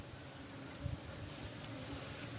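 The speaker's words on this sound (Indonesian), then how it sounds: "Ini bukan nyamuk, ini lebah." Bees buzz around outdoors in a steady, dense drone that hums continuously through the whole stretch, with a slightly louder swell near the middle and no talking.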